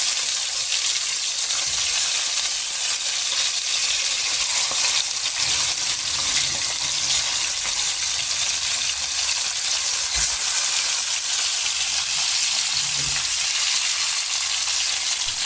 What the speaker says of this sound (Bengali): তো যেহেতু এগুলো ফ্রোজেন মাছ, তাই একটু হালকা ভেজে নিয়ে তারপর ভুনা করব